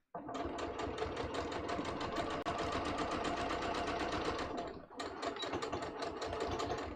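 A sewing machine stitches a seam on a pair of pants in a fast, even mechanical rattle that runs continuously, with one brief pause before resuming, loud and close with no talking.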